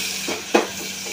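Masala spices frying in oil in a pan, a close, steady sizzle with a brief stir or scrape standing out partway through.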